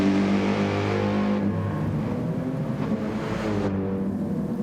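GT3 race cars on a wet track in a racing video game, engines droning and revving steadily, one car shifting pitch as it passes, with no talk over the sound.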